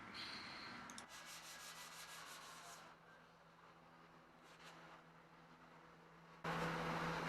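Steady abrasive final sanding of a Triumph TR250 body tub before painting, pausing briefly, then resuming louder at the end.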